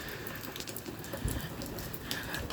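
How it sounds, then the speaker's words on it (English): Rain falls steadily outdoors in California, a dense, even patter of drops that continues throughout with no talking. "but now it's raining."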